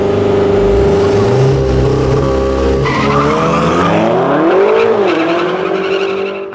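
A BMW M5 and a Volkswagen Golf 7R race in an underground racing event, engines roaring loud and close with a sustained screeching tire squeal that bends in pitch as the cars slide, no talking.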